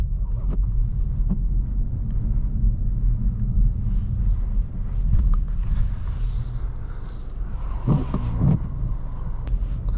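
A 2020 Mazda3 AWD pushing through deep snow, giving a steady low engine rumble with crunching, scraping bursts from the tyres and snow, close and continuous throughout.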